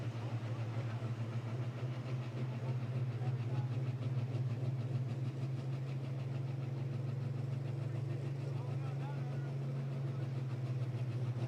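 A Pro Stock pulling tractor from St. Paul, Indiana, at a night tractor pull at Darana Motorsports Park in Dunn, North Carolina, gives off a steady, low, faint engine rumble that holds evenly throughout, as if idling at a distance.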